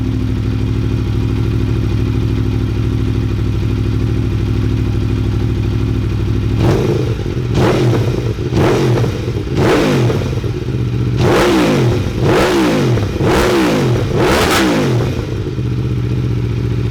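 A 2018 Aprilia Tuono Factory motorcycle with an Akrapovic exhaust and its baffle removed idles loudly and steadily. It then fires off a quick series of about eight sharp throttle blips, each revving up and falling back, with no voices.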